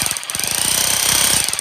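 A Mailtank rotary hammer hammers in impact-only mode, a rapid loud mechanical pounding at close range that runs continuously without pause.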